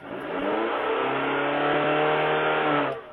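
A classic Cuban car's engine revs in one continuous, loud, close roar lasting about three seconds, with a steady droning tone.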